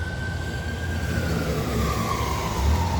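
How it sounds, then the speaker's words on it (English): Ambulance and fire rescue sirens pass on a road, a wailing tone sliding slowly downward over steady traffic rumble, fairly loud and continuous, with no talking. "There goes fire rescue that people didn't get out of the way of either. Going through after the ambulance."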